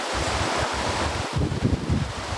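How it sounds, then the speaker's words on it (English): Strong wind roaring and buffeting against the microphone, a continuous rushing noise with low gusty thumps. "It's so windy"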